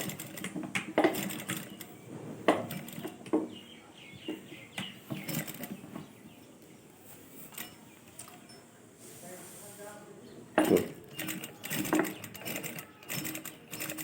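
A sewing machine stitches a shaped belt next to an invisible zipper in short, rapid bursts of clatter, separated by quieter pauses with faint handling noise.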